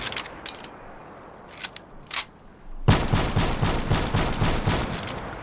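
Argus shotgun with a Rapid Fire attachment and jitter mod in Black Ops 3: a few scattered single blasts, then a fast, rhythmic string of loud shots fired in quick succession.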